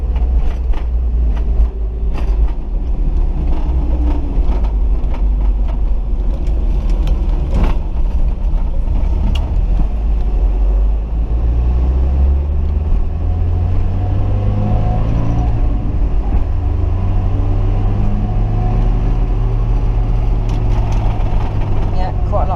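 Ford Cortina Mk3 with a worn wheel bearing driving on a road at about 70, heard from inside as a heavy, constant low rumble and road noise, with occasional voice-like sounds over it.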